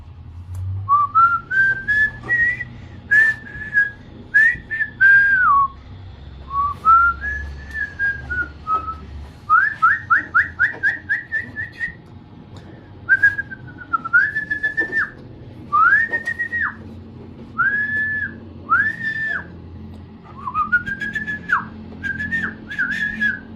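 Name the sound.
pigeon calling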